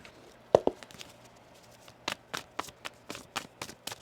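Tarot cards being shuffled in a run of quick riffling bursts, close and crisp, with a couple of sharp taps early on and no talking.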